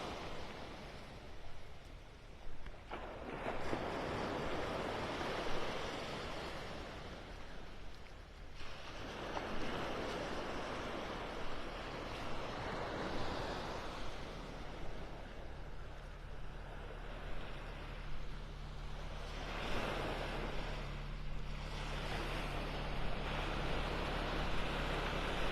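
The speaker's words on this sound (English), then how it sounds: "Waves breaking here." Small, gentle waves wash and break along a beach at Delnor-Wiggins in North Naples on a calm morning, a steady broadband hiss that swells and eases in several soft surges, with a faint low wind rumble underneath and no voices.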